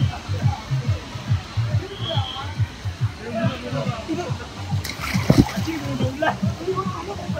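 Water ride splashes at Black Thunder water park, a steady churn of splashing and sloshing water with a sharper splash burst near the end, under nearby crowd voices and chatter.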